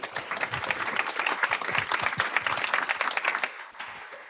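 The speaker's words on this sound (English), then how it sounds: "Let's give a round of applause for our panelists." A round of applause for a panel at a webinar on the ocean and climate change, dense clapping from a modest audience sustaining for several seconds, then thinning and fading out.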